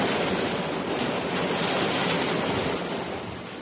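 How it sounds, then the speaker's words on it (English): A torrential rain downpour in Maryland roars as a dense, steady broadband rush, loud and unbroken, easing slightly at the very end with no voices. "This is a torrential downpour."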